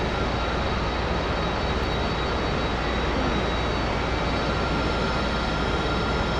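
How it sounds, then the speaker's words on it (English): Jet aircraft engine spooling up during start-up in a combat flight simulator, a steady loud roar with a constant high whine running throughout, no voices. "Let's start the aircraft up."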